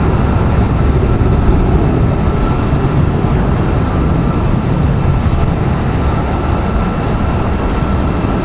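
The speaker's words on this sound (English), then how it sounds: "Very loud departure there for Frontier." Frontier airliner departing Raleigh-Durham International Airport, a loud continuous jet roar that stays steady throughout, with no talking.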